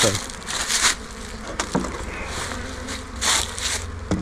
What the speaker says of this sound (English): So you can see all the new bees piling in there.